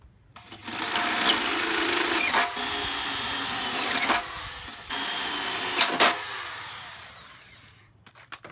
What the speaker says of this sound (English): So I'm going to drill a hole first.